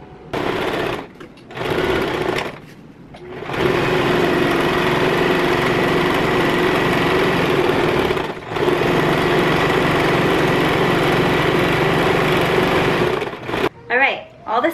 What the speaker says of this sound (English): all you're gonna do is sew where you have the pins and just make a small seam line